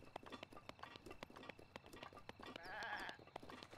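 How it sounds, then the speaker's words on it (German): A billy goat near a stable in Zelda: Breath of the Wild gives a quavering bleat amid soft, steady clip-clop of hooves and quiet game ambience, all at a low level. "Wir haben so noch so einen Ziegenbock."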